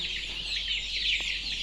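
Chickens cluck and chirp together in a dense, steady flock noise at a poultry farm during brooding, a constant high chatter over a low hum.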